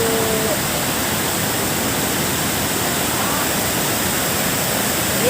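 River water flowing at Tala River Park makes a steady, dense rush that holds at an even loudness from start to finish, with no pauses and no voices.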